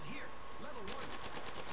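Rapid automatic gunfire from Apex Legends crackles in a quick burst, moderately loud and blended with game effects across the short stretch.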